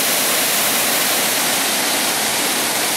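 A forest waterfall in Thailand at the end of the rainy season roars as a loud, steady, broadband rush of falling water, constant and close throughout with no voices.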